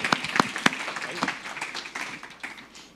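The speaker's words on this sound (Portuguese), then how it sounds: "Então, uma salva de palmas, pessoal, para Ana Maíra e Florian." An audience at a foundation's 30th-anniversary event breaks into applause, with a few sharp claps up front building into a dense wash that gradually fades away.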